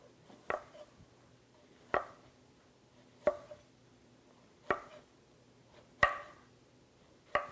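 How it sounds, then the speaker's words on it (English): A knife chops zucchini on a cutting board, cut on a bias into longer pieces: six crisp, separate thunks spaced roughly a second or more apart, close and fairly quiet, with no talking over them. "we're going to cut our zucchini on a bias and get some nice longer pieces in there"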